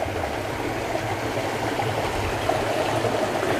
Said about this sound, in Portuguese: É um córrego, né?